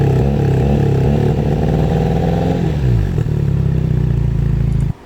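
Loud, deep tuned delivery motorcycle engine idling close by at about 87 dB, a rough, throbbing rumble that wavers slightly before cutting off abruptly near the end.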